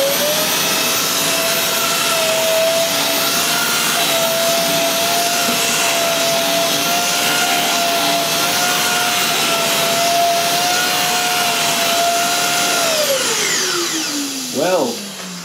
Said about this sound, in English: Let's see how well this Dyson Big Ball animal does at removing this dirt.